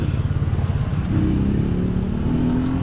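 A motorcycle engine runs steadily close by, its low rumble rising into a firmer, revving drone partway through, with no voices over it.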